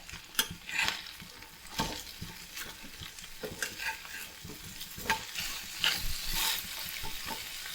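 Crab frying on a hot dosa griddle, turned and scraped with a utensil, giving a steady close sizzle broken by repeated sharp metallic scrapes and clicks, with no talking.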